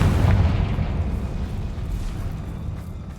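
A Confringo fire spell blast in Hogwarts Legacy, a heavy booming burst up front that rolls into a long rumbling decay, loud and close, with no voices.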